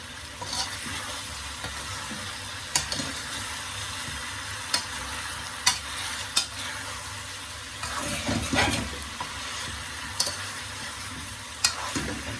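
Steady crackling sizzle of curry chicken frying in a pan, with occasional sharper pops and scraping clicks, close by and continuous, no voices.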